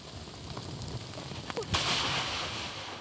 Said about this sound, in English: these giant lava bubbles started bursting from the center of the vent